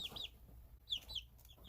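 Chickens clucking softly, two short bursts of clucks separated by a pause, faint and close, with no talking.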